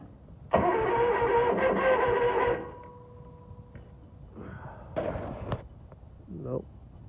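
A lawn mower engine cranks in the cold on choke, churning loudly for about two seconds before dying out without catching, followed by quieter rattles and handling noise nearby.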